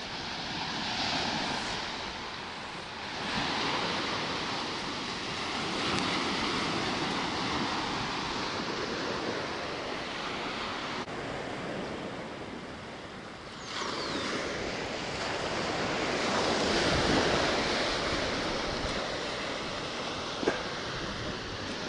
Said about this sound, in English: this is Maxwell Beach